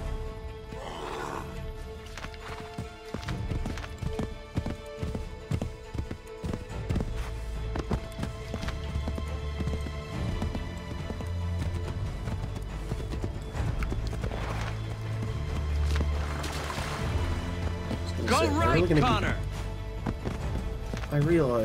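Horse hooves clip-clop in Assassin's Creed 3, joined by neighs and whinnies over a game soundtrack, with a character speaking at times as the hoofbeats run steadily through.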